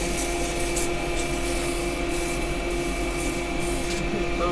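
Steady, close abrasive rubbing continues without a break as 180 grit sandpaper is held against a wooden mallet spinning on a woodturning lathe.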